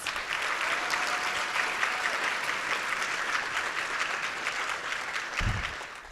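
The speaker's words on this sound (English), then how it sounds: "Let's give these students a round of applause." A high school audience applauds students at an honors induction ceremony, a sustained wash of many hands clapping that fades slightly at the end.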